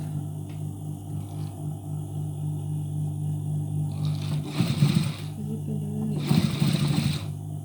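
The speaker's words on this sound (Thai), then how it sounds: "จะเย็บตรงไหนก่อนก็ได้นะคะ เย็บข้างบนก่อนก็ได้" A sewing machine stitching a shirt collar hums steadily and close, with two louder bursts of rapid stitching rattling out near the end.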